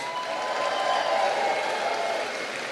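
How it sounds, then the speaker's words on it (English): An audience at a Conservative political rally in Sault Ste. Marie, Ontario, applauding, a dense sustained wash of clapping that swells and then holds, heard alone without speech. "Big round of applause."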